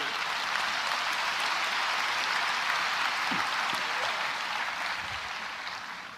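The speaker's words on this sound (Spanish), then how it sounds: "Dale otro aplauso al rey." Steady, dense applause from a church congregation fills the space evenly throughout, with a few faint voices rising beneath it before the clapping begins to taper off toward the end.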